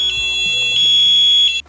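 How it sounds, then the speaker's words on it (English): Loud, piercing electronic alarm from an e-scooter lock triggered by moving the scooter, a steady high beeping tone held close for well over a second before cutting off abruptly. "there's our alarm."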